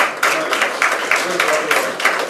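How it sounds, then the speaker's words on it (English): Applause from an audience at a school auditorium inauguration, a steady wash of many hands clapping close and moderately loud with a few stronger bursts, lasting a couple of seconds. "A huge round of applause for sir."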